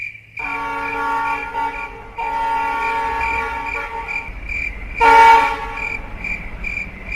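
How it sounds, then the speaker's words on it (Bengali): Train sounding its whistle as it runs alongside a station platform in an audio drama, a sustained tonal horn blast that breaks off briefly, resumes, then swells louder near the end over a low rumble. "দু একবার হুইসেল দিয়ে ট্রেনটি প্ল্যাটফর্মের গা ঘেঁষে যেতে লাগলো।"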